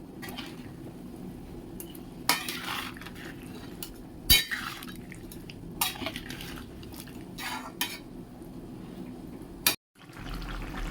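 A spoon stirs a vegetable curry in a pot, with scraping strokes, metallic clinks and wet bubbling close by, and a few sharper knocks against the pot's side before a brief pause.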